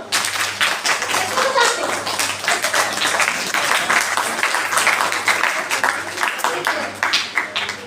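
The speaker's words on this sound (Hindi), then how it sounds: "ताली बजाओ" A group of children at a Brahmakumaris summer camp claps their hands loudly and continuously, with fast, slightly uneven claps close by over a faint low hum.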